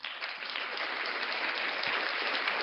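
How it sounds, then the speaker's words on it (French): Sustained audience applause at a podcast awards gala, steady and dense clapping from a crowd throughout, loud and unbroken with no talking over it. "Ça fait longtemps qu'on s'est fait applaudir, même si c'est des applaudissements de monde décédé"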